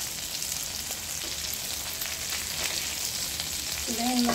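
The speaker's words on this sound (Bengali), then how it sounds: "কারণ পরে ঘুরে ঘুরে মাছটা ভাজছি" Small tengra fish frying in a pan, a steady dense crackling sizzle that holds evenly throughout at close range, with a brief faint tone near the end.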